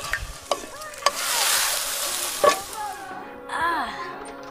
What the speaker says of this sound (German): Sie kocht erstmal und kocht und kocht und kocht